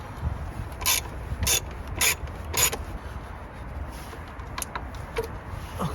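Wrench turning a 13mm nut on a car battery clamp, giving several short ratcheting clicks in bursts, close and fairly loud over a steady low background rumble, with fainter clicks near the end.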